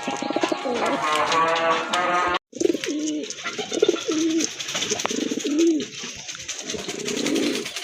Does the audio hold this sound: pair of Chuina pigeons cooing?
yes